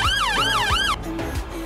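Wailing police sirens from the Roblox City London game sweep up and down in fast repeating cycles, loud and close, then drop away to quieter traffic noise with no talking.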